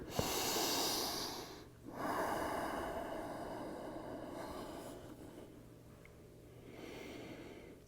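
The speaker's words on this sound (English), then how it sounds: "Just take a couple breaths here." Slow, quiet breaths from someone lying face down with the forehead resting on stacked hands, soft airy inhales and exhales close by in a hushed room with no talking.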